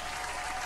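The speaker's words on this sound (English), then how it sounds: "Where's the applause when you need it?" Brief burst of dense applause from a live-show audience, steady and close, with no break in the clapping.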